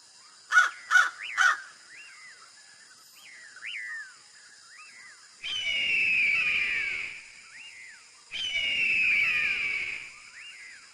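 A cartoon crow gives three loud, harsh caws in quick succession, followed by softer scattered calls and two longer raspy cawing passages with pauses between them.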